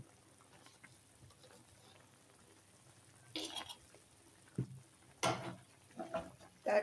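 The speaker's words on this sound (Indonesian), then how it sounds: "Kita aduk-aduk kembali" Chicken in soy sauce is stirred in a pan over a faint sizzle, with several louder scraping bursts near the end, close by and without speech.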